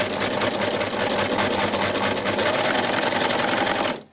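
An overlocker sewing machine stitches a rolled hem, its steady rapid mechanical whir running loud and continuous before stopping abruptly near the end.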